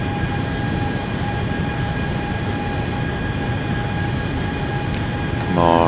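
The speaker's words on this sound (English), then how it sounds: "The engines are coming down a little bit." Boeing 757 jet engines in a flight simulator game hold a steady, loud drone with tonal whine lines, slowly easing down in power, with a brief rise in noise at the very end.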